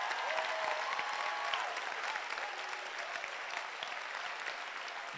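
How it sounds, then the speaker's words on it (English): A large church camp audience in New York claps hands in a dense, steady wash of applause lasting the whole stretch, with faint tonal sounds above it. "Is there anybody who can clap his hands or her hands?"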